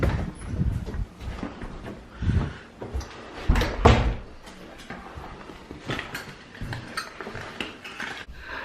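A hotel suite door in Jasper is handled close by, with a latch click, a thump and shuffling movement, followed by a few scattered knocks and bumps.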